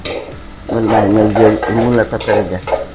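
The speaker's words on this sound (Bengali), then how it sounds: "এখন তেল গরম হয়ে এসেছে দিয়ে দিচ্ছি পেঁয়াজ কুচি পেঁয়াজ কুচির সাথে কিছু কাঁচামরিচ ফালি করে দিয়ে দিব" Chopped onion and sliced green chilli fry in hot oil for a radish curry, a loud close sizzle with stirring, partly overlaid by a humming, voice-like tone.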